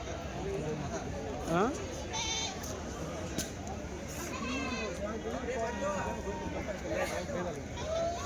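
Repeated bleats from male goats cut through the chatter of a busy weekly sheep and goat market in Kadiri, several calls rising and falling over constant nearby talk.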